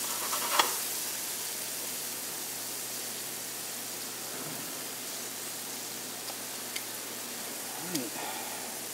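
Scallops searing in a hot pan give off a steady, broad sizzle that holds for several seconds, with a few small clicks and taps from handling the pan and a voice talking quietly under it.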